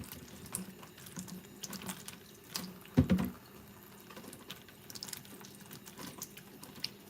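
Tap water runs at low flow over potatoes being washed in a colander, a soft splashing trickle with light knocks and one louder clunk midway, close by in a quiet kitchen.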